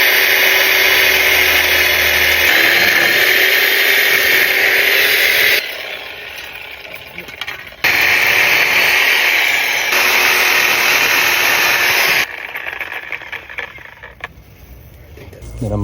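A power tool grinds loudly through an aluminium air-conditioning line, cutting back toward the copper, a harsh sustained whine that cuts out and restarts in several bursts with brief pauses.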